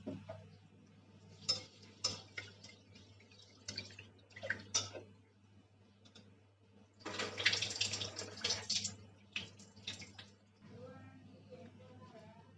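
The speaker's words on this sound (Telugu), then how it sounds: "కొద్దిగా వాటర్ పోసుకొని బాగా కడుక్కోవాలండి 2 సార్లు." Moong dal in a small pressure cooker is washed twice in a little water, giving soft, intermittent sloshing and swishing bursts that grow busier midway. A faint background hum runs underneath, and the overall level is quiet.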